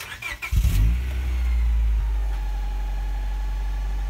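A 2001 Honda Prelude Type SH engine fires up through a new YONAKA catback exhaust, with a brief cranking burst settling into a deep, steady low rumble at idle, close and loud.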